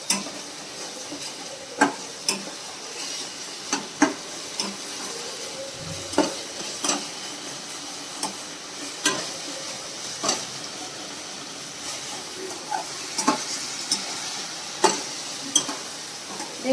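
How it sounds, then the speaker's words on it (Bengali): A spice paste for doi katla, a Bengali yogurt fish curry, is stirred and sautéed in a pan with a little water, giving a steady soft sizzle and hiss. A spoon scrapes against the pan in regular clinks and knocks throughout. "আমি এটাকে কষিয়ে নেব।"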